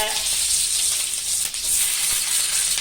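Dried red chillies, green chillies and garlic fry in hot oil in a pan, giving a steady, loud sizzle that crackles without a break from start to finish.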